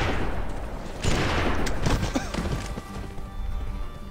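Rifle shots fired at a bear in the video game GUN, loud cracks with rumbling tails amid busy game noise and some clattering, several reports within a few seconds.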